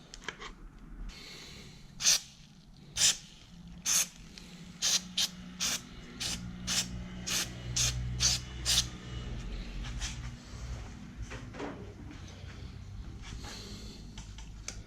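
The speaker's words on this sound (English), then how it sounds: "I'm going to put a little bit of silicone spray in here just to help them slide" Silicone spray hisses onto carburetor cables on a Yamaha Vmax in a series of short, sharp bursts, about a dozen spaced puffs over a quiet workshop background.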